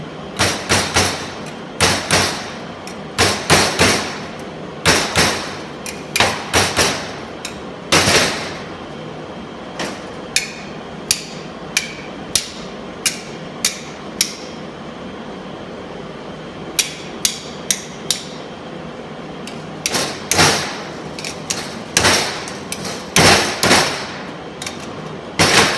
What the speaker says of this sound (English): Now let's start hammering it again.